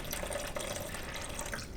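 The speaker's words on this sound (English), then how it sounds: "I'm going to use our funnel and I'm going to pour some of the water back into our container" Water poured through a funnel into a container, a soft continuous trickling and splashing, steady and fairly quiet throughout.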